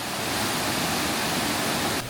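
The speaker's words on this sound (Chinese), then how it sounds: "這裡還有一個小瀑布" A small waterfall in the mountain village of Mae Kampong near Chiang Mai, a steady broadband rush of falling water heard close and alone, unbroken throughout.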